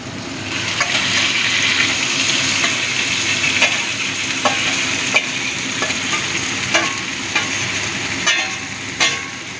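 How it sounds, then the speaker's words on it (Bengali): Marinated mutton sizzles in hot oil with whole spices, stirred with sharp periodic scrapes and clicks over a steady loud crackle, close and without speech. "এবার আমি দিয়ে দেবো ম্যারিনেট করা মাটনটা"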